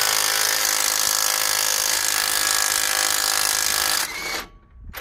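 An impact wrench or similar power tool hammers steadily at a stubborn nut on a Ford F150 during a camber fix, loud and close for about four seconds, then cuts off abruptly and fades to near quiet.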